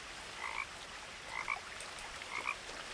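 A frog croaking in the video game What Remains of Edith Finch, three short paired croaks spaced about a second apart, fairly faint over a quiet background hiss, with no talk.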